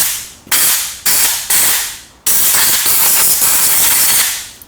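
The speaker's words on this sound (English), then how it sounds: "I'm gonna go ahead and take my compressed air and blow out these rocks" Compressed air blasts blowing debris out of the spark plug wells of a Honda CB750, with three short hissing bursts followed by one longer sustained, loud jet of air, close up.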